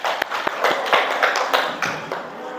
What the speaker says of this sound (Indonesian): sama-sama kita tepuk tangan